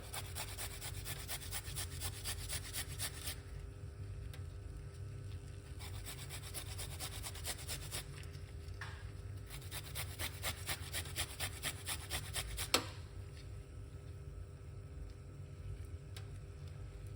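Fresh ginger root rubbed against a grater at home, a steady run of dry rasping strokes, close and fairly quiet, with no talking.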